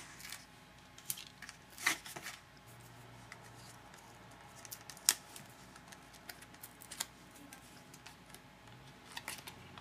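Scissors trim cardstock for a handmade card, heard as a scattering of sharp, quiet snips and clicks spread unevenly over a hushed room, with no talking.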